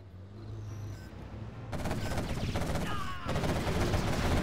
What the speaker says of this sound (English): Sneaky quad cannon from Marakar denies the oil cap.